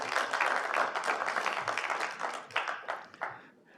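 Applause from delegates at a council meeting, a dense burst of clapping that thins out and fades over a few seconds.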